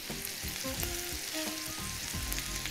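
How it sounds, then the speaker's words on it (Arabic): Minced meat sautéing with onions in a hot pan, a loud, continuous close-up sizzle with bursts of scraping and stirring over the whole stretch. "هحطها مع البصل بتاعي مش هحمرها، انا بس عايزاها تاخد تشويحه"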